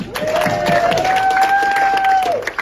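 A comedy show crowd cheers and claps loudly, with a continuous mix of applause and whoops, and a rising whistle-like tone sustained over the noise.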